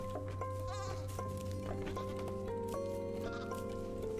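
A goat in the video game Creaks bleats in a wavering cry over a busy bed of plucked musical notes and a sustained low tone.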